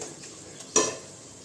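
Onions soften in a hot pan on a stovetop with a faint, steady sizzle, while a spoon stirring against the pan makes one short clink midway.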